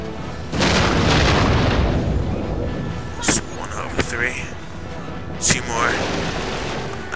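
Heavy booming shots fired at a castle gate in the game Infinite Undiscovery: a long rumbling blast followed by several sharp impacts spaced a second or so apart, with a voice speaking over it.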